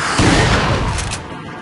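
Shotgun blasts in Resident Evil 4, a loud burst of booming gunfire that fills the opening second before fading into quieter ambience.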